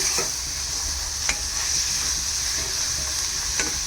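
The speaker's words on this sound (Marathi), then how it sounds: "फोडणी देताना हाय फ्लेमवरती फोडणी द्यायची आहे पटकन" Steady, loud sizzling of garlic tempering in hot oil on a high flame for fenugreek-leaf curry, with a few sharp scraping stirs at intervals.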